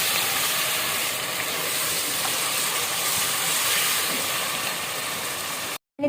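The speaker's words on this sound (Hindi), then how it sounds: "2 टेबलस्पून तकरीबन मैं जिंजर गार्लिक का पेस्ट डाल दूँगी। अच्छी तरह से भुनाई कर लें।" Ginger-garlic paste and whole spices fry in a pan for a chicken and potato shorba, giving a loud, continuous hiss and sizzle that holds steady close by, then cuts off abruptly near the end.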